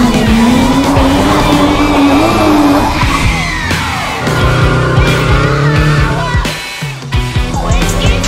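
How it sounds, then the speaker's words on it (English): A drift car slides with a long, loud tire squeal over engine revs, the squeal bending in pitch before giving way to rough engine noise and scattered crowd shouts. "I drift cars"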